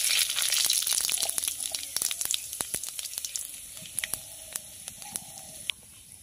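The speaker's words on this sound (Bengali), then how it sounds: "ফোড়নটা দিয়ে নেবো 5 ফোড়ন আর শুকনো লঙ্কা 2টো" Panch phoron whole spices and two dried red chillies hit hot oil in a kadai, starting with a bright, dense sizzle and then settling into crackling pops and spits that thin out over several seconds.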